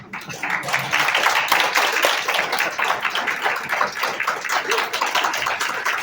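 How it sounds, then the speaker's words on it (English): A university audience of faculty in a hall claps continuously, a dense and fairly loud patter of many hands that rises quickly and holds steady for several seconds. "This clapping is not enough."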